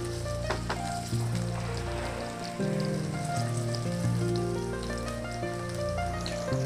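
Panch phoron spices crackling and sizzling in hot oil in a pan, a steady, loud frying hiss with popping bits, heard over a continuous low hum from a cooking show.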